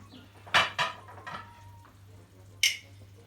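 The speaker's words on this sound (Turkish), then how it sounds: "Evet güzelce karıştırıyorum pilavımı" A spoon scrapes and knocks against a pot while stirring chicken rice pilaf, a few sharp metallic clinks and taps over a low, steady hum.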